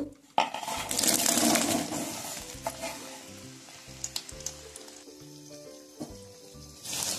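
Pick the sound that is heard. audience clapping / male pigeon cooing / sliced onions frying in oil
sliced onions frying in oil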